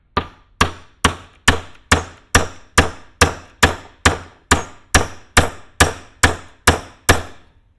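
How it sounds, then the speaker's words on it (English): A steady series of around fifteen loud, ringing metallic strikes of a brass hammer on a punch inside an eTorque motor-generator shaft, evenly spaced about half a second apart, close up with no talking. "I'd find just the right punch that would bottom out inside the shaft using a brass hammer."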